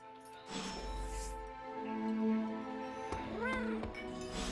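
A cat in Marvel's Midnight Suns meows with a rising, bending call late in the clip, set against steady game music and ambience.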